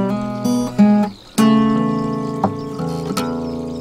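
Electric guitar riff from a song, with a low bass note struck twice followed by rolling picked notes and short slides, played alone and close with a clear, ringing tone.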